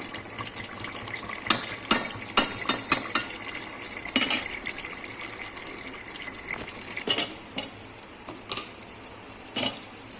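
Biryani masala being stirred in a pan over a high flame for a Tamil Nadu style biryani: steady close sizzling broken by irregular spoon scrapes and metallic clinks against the pan, with no talking.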